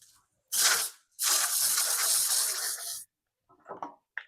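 Two hissing bursts of cooking spray from an aerosol can onto a pan, a short one then a longer steady one, followed by faint clatter.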